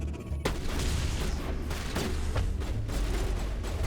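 A grenade blast in Mass Effect Legendary Edition, a sudden heavy boom followed by a rumbling, crackling wash of combat noise with repeated thuds continuing to the end.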